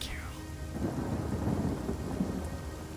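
A rain and thunder spell in the fantasy role-playing game Divinity, a deep rumbling thunder roll swelling over dense rain spattering on surfaces, loud and close with no talk.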